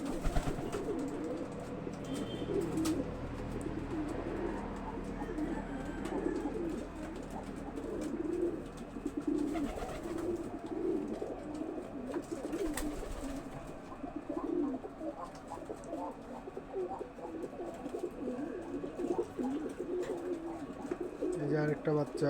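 Pigeons in a small home pigeon farm of about twenty pairs coo repeatedly, soft low throaty calls overlapping at close range with occasional wing flutters and bumps, while a person talks over them.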